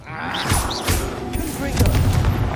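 Combat magic in the Hogwarts Legacy video game, with loud blasts, whooshing spell effects and rapid crackling impacts layered over a rumbling game soundtrack, dense and continuous.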